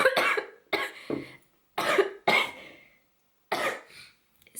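Someone coughs repeatedly at close range, several harsh, separate bursts with brief silent gaps between them, loud and dry with no talking.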